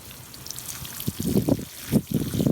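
Collected rainwater is poured onto a freshly planted spring bed of onions, peas and rosemary, giving soft irregular splashing and trickling bursts close by that start faint and grow louder.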